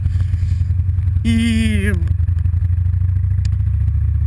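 Motorcycle engine idling loudly and steadily up close, its low throb continuous, with a brief rising whine partway through and a single short spoken syllable.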